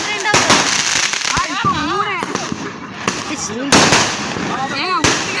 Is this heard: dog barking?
no